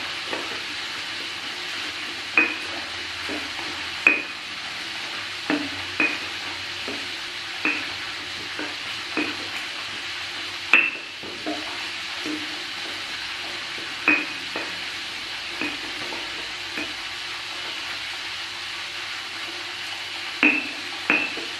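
Green chilies stir-frying in a pan for a spicy eel dish give a steady, close sizzle throughout, broken by regular clinks and scrapes of a utensil against the pan, with no talking.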